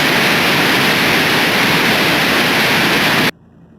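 Loud, steady hiss of static pours from a VHF marine radio before the squelch is adjusted, then cuts off abruptly near the end, leaving near silence.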